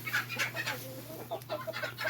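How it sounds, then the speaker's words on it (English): Silkie chickens in black and white colours cluck in soft, quick bursts, close by and moderately quiet, with short pauses between calls and a low steady hum underneath. "we're getting some really pretty chickens"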